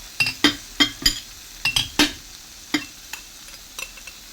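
A utensil scrapes and clinks against a pan while beef liver is stirred in soy and oyster sauce, a string of irregular metallic taps close by, thinning out toward the end over a faint sizzle.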